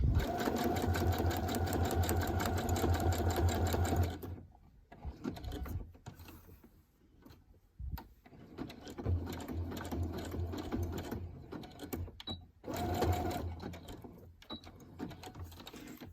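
Sewing machine stitching down a fabric seam, a loud, rapid mechanical chatter that runs steadily, stops, then resumes in shorter bursts with handling noises between.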